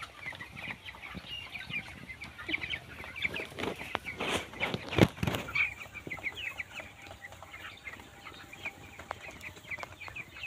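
Broiler chickens on a village poultry farm cluck and chatter softly at a distance, a faint ongoing flock murmur with a few sharper calls.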